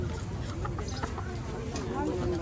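Chickens cluck in short bursts amid busy outdoor noise at a morning market in Nam Bak, Laos, with people talking nearby.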